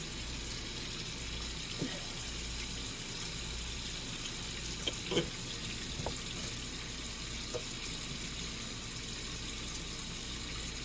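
Warm tap water runs steadily from a faucet into a sink for face washing, a continuous rushing stream with a few faint clinks and knocks, no voices.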